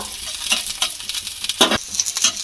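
Onion sizzles steadily in a hot pan while a utensil scrapes and stirs it in irregular strokes, close up and without speech.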